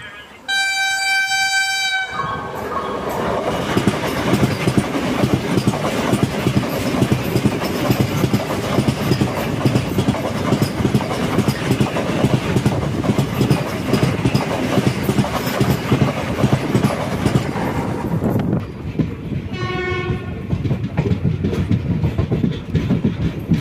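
Heavy train rumbling past a railway crossing on the Hyderabad Deccan to Chennai Central route, a loud continuous rolling roar with clattering wheels for most of the stretch, bracketed by tonal horn blasts at the start and near the end.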